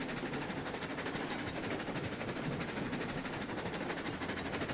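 A steam-era train rolls along rails in Railroads Online, a continuous loud clatter and rumble with rapid rhythmic chuffing or clacking throughout, no voices.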